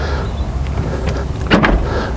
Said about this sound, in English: Barn doors, and they open right up to 180 degrees